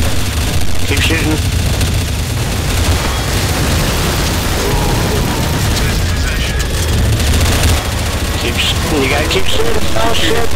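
Dense, loud gunfire fills a zombie fight in Counter-Strike: Source, with rapid overlapping shots and booming bursts going on throughout while players talk excitedly over the din.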